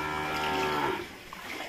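A cow moos inside a flood-flooded cattle shed in Noakhali, Bangladesh, one long, low, resonant call lasting about a second that fades into a quieter, watery background.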